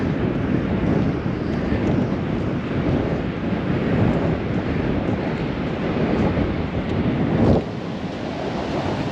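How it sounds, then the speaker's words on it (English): Strong wind buffets microphones on a Bexhill seafront, a loud continuous roaring rumble with surf blended in, steady throughout and dipping slightly near the end. "Try and shelter the mics from the wind, because there's a lot of wind today."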